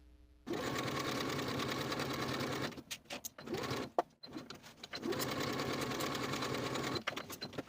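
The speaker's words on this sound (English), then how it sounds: "Now I'm going to sew both of those vertical darts from the top, leaving thread tails" A sewing machine stitches vertical darts on a dress, running in long steady bursts with a loud close mechanical whir, stopping briefly in between for a few clicks and handling noises.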